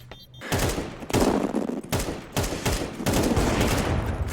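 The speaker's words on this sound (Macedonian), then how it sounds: "На толку пукање да не умре." Rapid gunfire from Counter Strike 2 rattles in loud, dense bursts almost without pause, several overlapping volleys close up and filling the whole stretch.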